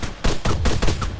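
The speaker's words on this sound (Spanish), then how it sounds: "¿quién está disparando?" Gunfire in a video game: several sharp, loud shots in quick irregular succession, close and punchy, with no voices over them.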